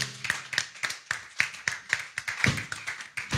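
Church congregation clapping together in steady, sharp beats, a loud, close, rhythmic applause with no voices over it.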